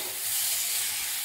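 Tomatoes and vegetables, including potato and papaya, sauté in a pan for a fish curry, giving a steady close hiss and sizzle with soft stirring throughout.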